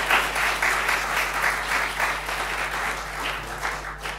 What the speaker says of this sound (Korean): 우리 격려의 박수 한번 다시 한번 했으면 좋겠습니다